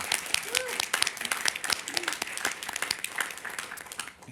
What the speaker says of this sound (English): So if I could ask for just a special round of applause for Debbie and all the work that she has don